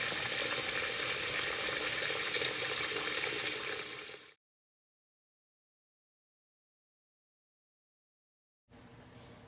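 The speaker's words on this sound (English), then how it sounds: "Then run the water on the frozen shrimps and soak the shrimps" Tap water runs steadily over frozen shrimps in a glass plate, a loud broadband splashing hiss for about four seconds, then abrupt silence before a fainter trickle resumes.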